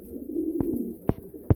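A racing pigeon in a loft gives a low, rolling coo, followed by a few sharp knocks or taps nearby, all close and fairly quiet.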